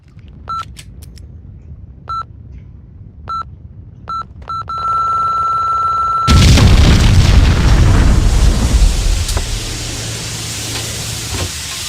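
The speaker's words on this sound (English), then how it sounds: "He set off the bomb!" A bomb goes off in a Max Payne video game mission after a series of sharp electronic beeps and a steady tone, then a sudden loud booming blast with a long rumbling, crackling tail.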